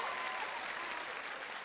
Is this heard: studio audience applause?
yes